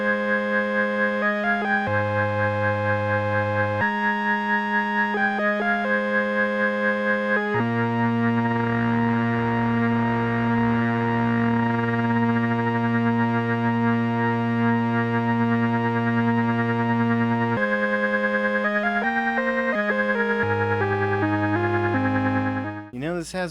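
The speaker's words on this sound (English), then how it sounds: "Now I've just taken an LFO through a little attenuator, and I'm putting it into the resonance control of the low pass filter." A droning synthesizer tone from an MFOS 12 dB multimode resonant filter, its low-pass resonance modulated by an attenuated LFO, overtones sweeping and shimmering in a slow cyclic wobble, sustained and loud throughout with no voices.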